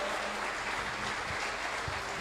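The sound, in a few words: congregation applauding in church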